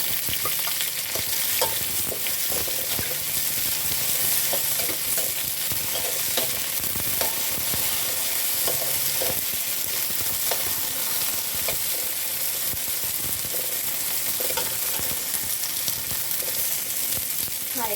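Chopped garlic sizzles steadily in hot oil in a pan, with frequent scraping stirs from a utensil clattering over the constant crackle, close and fairly loud throughout.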